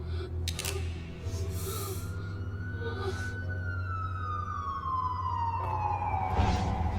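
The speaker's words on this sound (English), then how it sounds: "Saved by the sirens." A police siren in the Batman Telltale video game wails steadily, with a single sustained tone that slowly rises and then falls, moderately loud over low background rumble and a few scattered clicks and noises.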